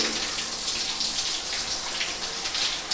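Water from a hostel shower pours onto clothes soaking in the middle of a pile, giving a constant, close, bright splashing rush with no pauses and no voices.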